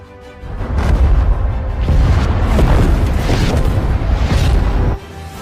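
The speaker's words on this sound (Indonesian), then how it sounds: "Tidak lama bom dijatuhkan dan berhasil mengenai musuh serta menghancurkan tank yang ada." Bomb blast destroying a tank in the war film 12 Strong: a loud, sustained booming roar rising about half a second in and rumbling for roughly four seconds before cutting off, with no speech.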